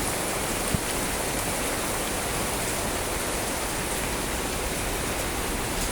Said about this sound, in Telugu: ఈరోజైతే చాలా ఎక్కువ వర్షం పడుతుంది